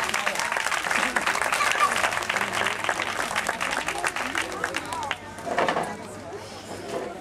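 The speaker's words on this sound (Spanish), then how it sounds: "Un fuerte aplauso." Loud, steady applause from the audience at a storytelling event in Benalmádena, continuous clapping that thins out toward the end as a voice begins to speak.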